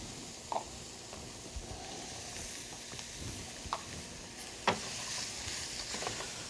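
Onions and bell peppers sizzle and hiss in a hot roux, with a steady crackle and occasional sharper pops and stirring sounds.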